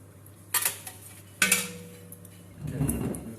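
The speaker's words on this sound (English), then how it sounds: "I'm just going to scoop this out onto a plate, so that's nice and drained." Cooked aubergine being scooped out of a pan onto a plate, two sharp metallic clinks of utensil on cookware followed by a softer scraping shuffle, close and without talk.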